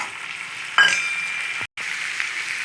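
Chopped tomato drops into a hot pan and starts frying with a sharp sizzle, followed by a steady crackling hiss and a brief clink of a utensil.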